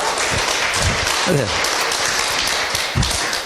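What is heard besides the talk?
audience clapping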